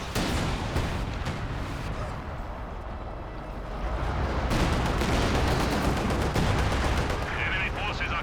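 Panzer tank cannon fire in Company of Heroes 2 amid a dense, continuous battle din of heavy booms and gunfire, with a voice talking over it.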